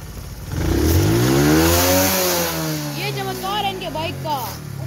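A motorbike engine revs up and down in a rising then falling sweep, loud and close, with a voice heard over the later part.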